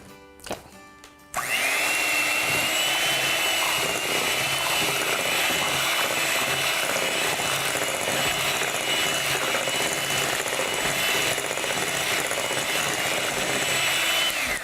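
An electric mixer starts after a brief clatter and whirs at a constant, loud, close pitch as it beats birthday cake batter, running steadily to the end without any talk.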